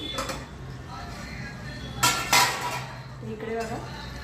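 A metal lid lifted off a pan of dhaba-style brinjal masala curry, clinking and scraping against the rim, with someone talking alongside.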